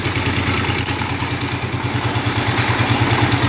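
An IH Cub Cadet 149 garden tractor's engine runs steadily at close range, a loud, even idle with a rapid regular firing pulse and some clatter, no voices.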